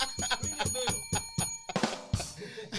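Bell rings out in a series of clear, repeated metallic strikes, each with a sustained ringing tone, then gives way to a louder noisy burst near the end.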